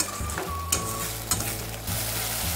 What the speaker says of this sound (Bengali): মশলাটাকে আরেকবার ভালো করে কষানো হয়ে গেছে